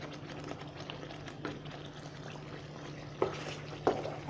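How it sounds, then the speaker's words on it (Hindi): Moong dal halwa cooking in sugar syrup, hissing and bubbling steadily at close range, with a few sharp spattering pops near the end. "अभी इसको पकाते रहेंगे और ये छींटे उड़ेंगे इसमें से"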